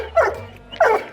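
A dog named Ace lets out two sharp, loud barks about half a second apart, close by and with nothing else audible between them.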